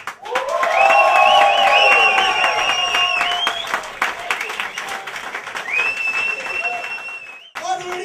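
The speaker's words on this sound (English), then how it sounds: "Let's get the whooping and cheering going to the one and only Mr. Michael McIntyre" A comedy club audience whoops and cheers loudly for comedian Michael McIntyre, high sustained shouts rising over steady applause, fading briefly near the end before clapping resumes, with a voice talking through it.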